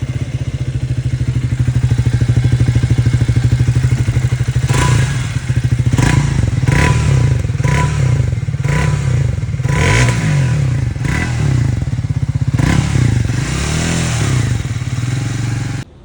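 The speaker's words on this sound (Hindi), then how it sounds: "ये है नई ट्रायम्फ स्पीड 400 जिसके अंदर 350 सीसी का इंजन आया है" Engine and exhaust of a new Triumph Speed 400 motorcycle with a 350cc engine, a steady loud idle thrum broken by several sharp throttle blips and revs in the middle, then settling back, with no talk.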